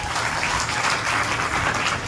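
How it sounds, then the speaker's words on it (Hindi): Dense, steady applause from an audience filling a large pavilion tent at a religious discourse, a continuous wash of many hands clapping at even loudness for the whole stretch, without speech. "बजा दो एक बार ताली"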